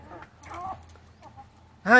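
Country chickens cluck softly in the background, then a loud, close squawk or crow from a rooster cuts in at the end.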